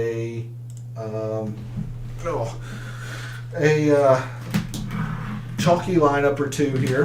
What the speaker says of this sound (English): I apologize for the noise as I get the keyboard moved around